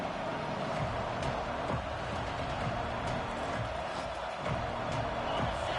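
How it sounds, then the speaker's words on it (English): Steady roar of a large video game college football stadium crowd at a Texas A&M vs Florida game, loud and continuous, with a few faint thumps and shouts rising out of the wash of noise. "the crowd really making some noise now, trying to help out this defense"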